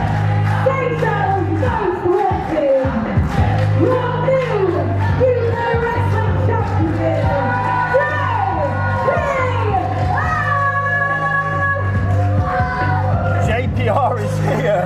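A UKW wrestling show crowd roars and cheers continuously, a dense wall of shouting voices, whistles and high-pitched children's yells, loud and sustained across the arena with a steady low hum underneath.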